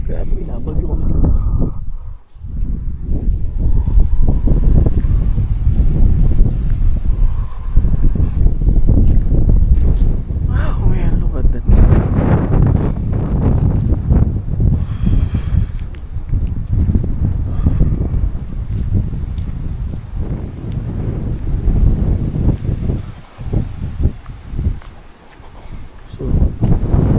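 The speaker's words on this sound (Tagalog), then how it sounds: "sa lakas ng hangin at sa lakas ng ulan" Strong typhoon wind roars and buffets the microphone continuously, with heavy gusting noise and rain throughout and voices talking beneath it, at a mountain campsite in Atok, Benguet.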